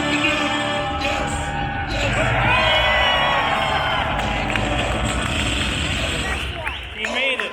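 Children and family cheer and whoop at Star Wars Celebration Chicago 2019 as an R2-D2 unit is driven, a loud, continuous crowd roar with people talking over it.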